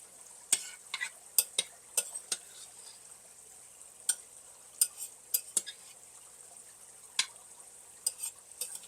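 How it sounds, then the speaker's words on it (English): A spoon scrapes and clinks against a pot while garlic is stirred into a hamburger soup, with soft sizzling underneath; sharp irregular taps come close and fairly quiet across the stretch. "So we're going to take 3 heaping tablespoons. And I'm going to give that a stir in."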